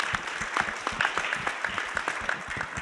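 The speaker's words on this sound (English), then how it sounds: "please give him a round of applause" A room full of people at an education conference panel applauds steadily, a dense patter of clapping that carries on throughout.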